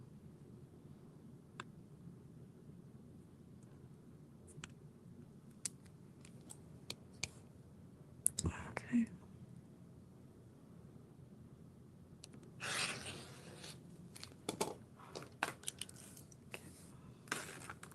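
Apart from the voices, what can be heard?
scissors cutting fabric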